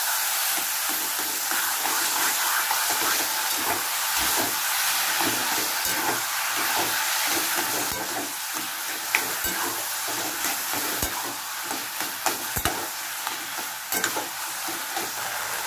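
Taro greens frying in a pan with hilsa fish, a steady hissing sizzle overlaid by irregular scrapes and taps of a stirring utensil, close and continuous.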